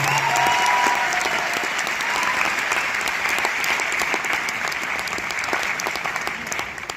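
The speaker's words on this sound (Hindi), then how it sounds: "एक बार जोरदार तालियां जनार्दन के लिए और सारे ग्लोबल डायमंड्स के लिए" Loud, sustained applause from a large audience at a graduates' anniversary event, steady dense clapping filling all seven seconds with no talk, tapering slightly at the end.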